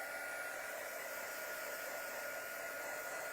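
A hair dryer blows at a constant, steady whir for a few seconds, close and unchanging, with no voices over it.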